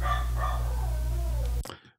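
A dog barks once, a short sharp bark near the end, after a steady low hum fills the room.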